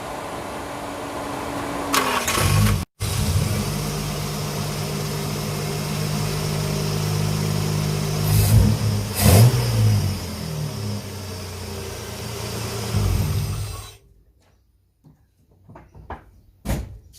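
A Nissan Patrol GQ with an RB30 engine and Holley 480 carburettor cranks and catches, settling into a steady close idle with a couple of blips of revs, then cuts off, leaving a few faint knocks.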